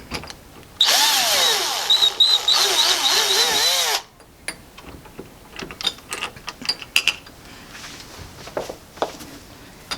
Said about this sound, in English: Today we'll use a drill.